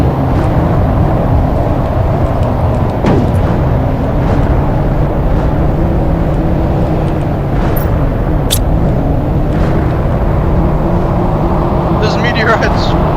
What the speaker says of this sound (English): But what would an engine sound like if it was in space?